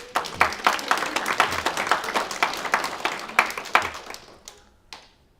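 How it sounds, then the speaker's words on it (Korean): A church congregation clapping during a sermon, brisk rhythmic claps that taper into a few last isolated claps before falling quiet. "박수 한번 쳐줘요"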